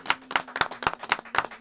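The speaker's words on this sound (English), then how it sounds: "Let's clap it up." A small podcast crew claps together in a quick, loose rhythm, roughly seven sharp hand claps spaced evenly and close to the mic, with a faint background hum and no talking.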